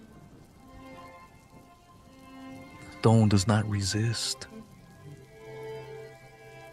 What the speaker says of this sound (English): The rain falls slowly over a stone.